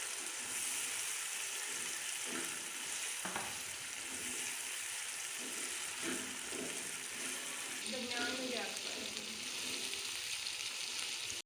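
Meat goes into a hot pot for palak gosht, frying with a steady, close sizzle and some stirring scrapes, and a faint voice murmurs partway through.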